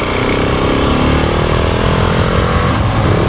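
A GasGas ES 700 dual-sport motorcycle rides through city streets with a loud, continuous engine drone that holds close and steady throughout, under a rushing wind roar.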